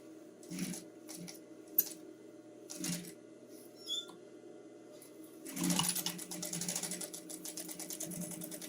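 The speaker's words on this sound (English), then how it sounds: "And now I'll sew down the other side of both bags." A domestic sewing machine stitches down the side of a fabric string bag. It starts with several short, quiet bursts, then runs in a steady, fast whirring stitch.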